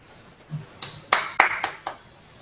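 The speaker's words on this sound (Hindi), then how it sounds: "अकेली ताली से ही मैंने पूरा आनंद ले लिया" Several sharp, bright claps ring out one after another at a university foundation-day event, with one soft thump before them. The claps are close and spaced unevenly, with quiet room tone between.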